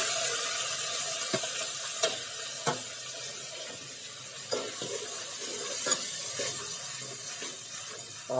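A soft sizzle of spices frying in hot oil, with occasional clinks and scrapes of a spoon stirring the pan.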